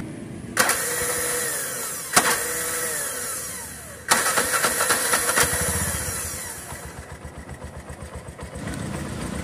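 A Bajaj auto rickshaw with a self-start fault cranks in sharp, separate bursts. After a few tries the engine catches into an uneven, pulsing run that fades and then picks up again, loud and close.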